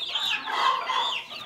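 Young Cochin chickens clucking and peeping in a coop, a continuous chorus of high chirps and soft clucks from several birds close by, with no talk.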